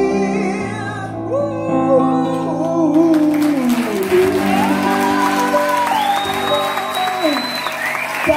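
A concert crowd applauds and cheers for the performer at an Aristophanes tenth-anniversary show, loud and sustained clapping mixed with whoops and a voice over lingering musical tones.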